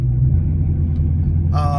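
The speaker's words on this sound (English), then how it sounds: "I just completely lost any gears" A 2018 Mustang GT with a failing 10R80 transmission losing gears rumbles steadily up close, a low engine drone that brightens into a higher whine near the end.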